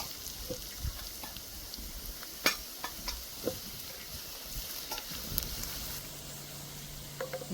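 Red chili powder and whole dried chilies sizzle in hot oil for a tadka, a steady crackling hiss with a few sharper pops, close and alone with no talk.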